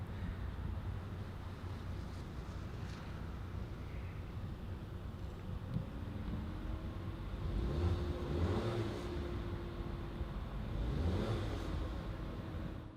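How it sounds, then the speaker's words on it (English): A 2016 Volkswagen Golf Sportwagen TSI S starts up with a push-start, its engine catching and settling into a quiet, steady idle heard from inside the car. "Let's go ahead and start it up using a switchblade key right here."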